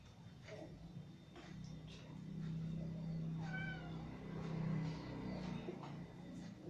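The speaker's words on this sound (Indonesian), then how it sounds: "Ini adalah kucing saya." A house cat meows several times, close by, beside a low steady hum while a Celestron PowerSeeker 114EQ telescope is being set up indoors.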